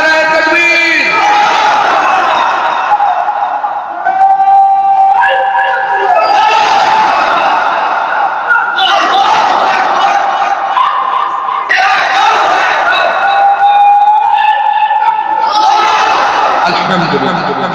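A large crowd at an Islamic religious gathering chants a takbir response in unison, loud and close, in several repeated surging bursts that fill the whole stretch.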